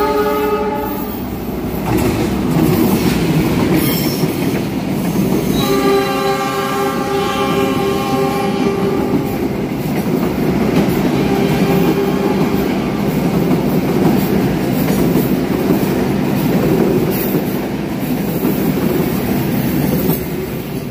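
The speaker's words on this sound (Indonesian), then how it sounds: "Persilangan dua kereta api baru, Pangandaran dan Papandayan di stasiun Leles" Two new passenger trains, the Pangandaran and the Papandayan, cross at Leles station in Indonesia, giving a loud steady rumble of railcars with sustained horn tones sounding throughout, close by and continuous.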